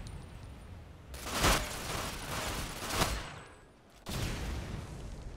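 Gunfire in the video game Tom Clancy's Ghost Recon Phantoms, with dense bursts of shots and noisy blasts in a loud, continuous barrage that briefly dips before resuming.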